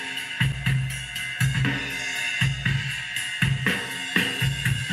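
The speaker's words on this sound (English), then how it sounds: "I had some cool natural room sound here that I've added to that original drum" Drums recorded with natural room ambience picked up by an open vocal mic play a steady, loud beat, with kick and snare hits about every half second ringing into a reverberant room.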